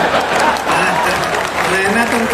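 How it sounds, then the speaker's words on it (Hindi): Loud clapping from a festival audience at a Hindi comedy poetry show rolls on steadily and close, with a voice talking over it part of the time. "ये वही लोग ताली बजा रहे हैं"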